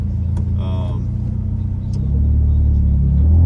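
Interior drone of a Nissan B15 Sentra SE-R Spec-V engine while riding, a steady low rumble that deepens and grows louder toward the end, with a voice talking over it early on.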